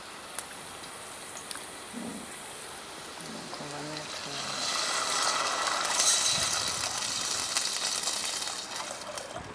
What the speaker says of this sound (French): Donc on va rajouter l'eau.